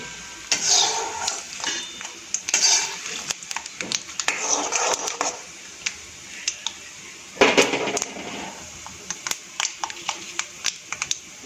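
A spoon scrapes and stirs peanuts and dried chillies tempering in a pan, giving intermittent clattering strokes and light sizzling bursts, alone without talk.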